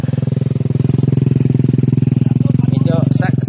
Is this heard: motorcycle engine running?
yes